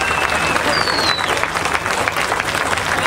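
Steady applause from a large crowd greets a strongman finishing an event at Britain's Strongest Man 1988, dense continuous clapping throughout with a commentator's voice faintly beneath.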